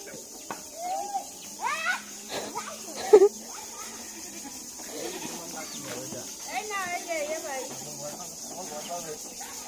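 Goats bleat in a rural yard in several short wavering calls scattered through the clip, mixed in with nearby talk and background insects.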